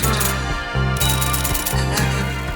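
Typewriter clatter woven into a song: loud, rhythmic key strikes and clicks riding over a steady synth bass and drum pattern, with no voices.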